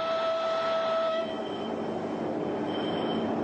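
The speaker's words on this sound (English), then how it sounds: "This train, with its hidden missiles, capable of launching 30 warheads on the move" A missile-carrying train rolling on rails, a steady loud rumble with a sustained tonal whine that fades partway through, continuous and close.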